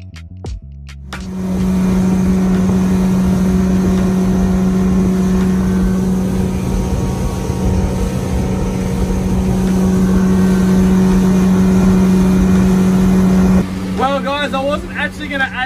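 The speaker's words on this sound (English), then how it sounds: "I had to come out to the Swan River and test out the new outboard" A new Yamaha four-stroke outboard motor runs steadily on a boat on the Swan River, a loud, constant drone that holds for most of the clip before a voice speaks near the end.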